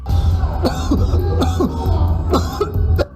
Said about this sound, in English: He is doubled over, coughing uncontrollably.